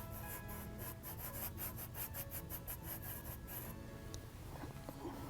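A paintbrush scrubs paint onto canvas in quick rhythmic back-and-forth strokes, a close, dry rasping that stops after a few seconds, leaving quiet room noise.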